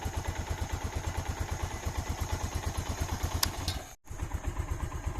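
A Honda TRX ATV engine fitted with a Chinese aftermarket carburetor idles steadily, a close, even thumping pulse with a brief dropout near the end, no talking.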